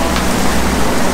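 Heavy monsoon rain pours outside Man Mo Temple in Hong Kong, a loud, dense, continuous hiss of falling water with no voices.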